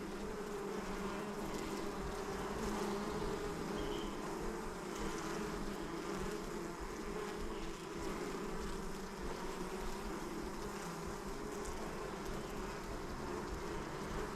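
Honey bees buzz steadily throughout a hive inspection, a dense, continuous swarm drone that stays close and even in level from start to finish, with no voices.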